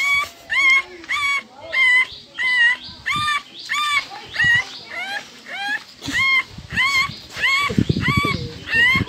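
A boy imitates a dog with his voice, giving a rapid run of about a dozen sharp, high yelping barks and whimpers in short bursts, close and loud, with scuffling noise near the end.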